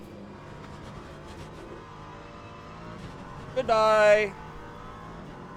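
An LMP3 prototype race car from a racing video game at Sebring, its engine a steady low drone with a brief loud, rising rev or pass-by near the middle, while a voice speaks over it.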